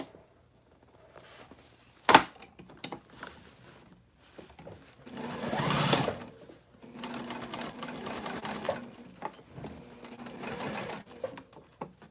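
Sewing machine stitching a cork crossbody bag, with a sharp knock early on, then a short burst of stitching followed by a longer stretch of uneven, stop-start needle runs, close by.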